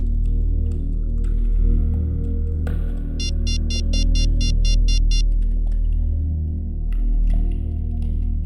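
A phone's ringback tone pulses in a quick series of repeated beeps over a steady low hum of background noise.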